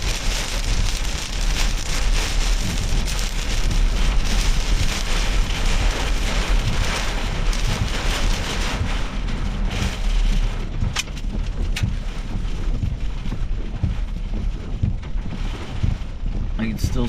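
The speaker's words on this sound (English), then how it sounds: "I can still see the wind blowing across the road right now" Heavy rain and strong gusting wind from a derecho storm in northern Indiana roar continuously for the whole stretch, pelting close to the microphone with buffeting wind noise and no clear talk.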